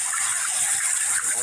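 Water being poured in a video game while cleaning a washroom, a steady rushing gush filling the whole moment, loud and continuous.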